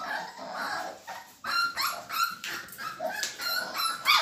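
Puppies and dogs in a kennel's new puppy room, giving a string of high yips, whimpers and small barks that come in quick irregular bursts, close by and moderately loud, with no one talking.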